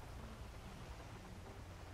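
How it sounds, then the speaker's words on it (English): Steady pouring rain in the GTA V video game world, a dense continuous hiss with low rumbling underneath, fairly quiet and unbroken, with no voices over it. "Yeah, it's pouring down raining."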